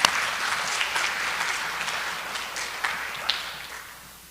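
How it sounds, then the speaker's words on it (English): A crowd at a high school Daffodil selection event claps for a performance, a fairly dense applause with a few sharp individual claps standing out, gradually tapering off toward the end. "Let's give them another round of applause."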